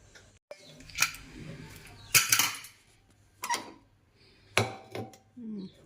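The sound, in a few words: opening pressure cooker lid to check boiled carrots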